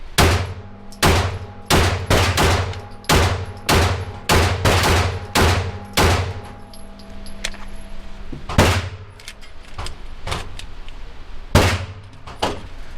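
A string of loud, sharp gunshots rings out at an outdoor shooting range, fired in quick bursts with short pauses and then spaced single shots toward the end, each crack close and punchy.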